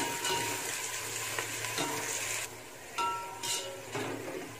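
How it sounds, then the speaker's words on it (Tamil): Sliced onions frying with cardamom, cinnamon and cloves in a pan for biryani, a continuous close sizzle with occasional spoon scrapes and stirs. "வெங்காயம் நல்லா ப்ரௌன் வர வரைக்கும் வதக்கிக்கணும்"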